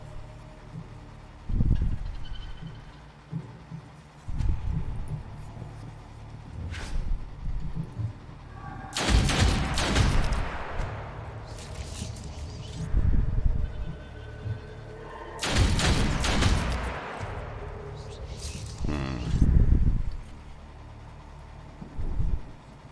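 Gunfire in the turn-based tactics game Othercide: two sharp, loud blasts several seconds apart, each trailing into a rumbling decay, with softer thuds and game sounds between them.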